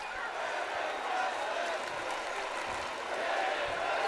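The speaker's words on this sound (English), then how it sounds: "crowd chanting, "This is wrestling."" Arena crowd in the WWE2K wrestling video game during an Impact match, a steady broad wash of cheering and chanting that stays loud and even throughout, with no talk over it.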